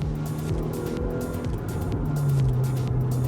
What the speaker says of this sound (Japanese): このマフラーが、これ俺らの車って全部音が大きいんじゃない？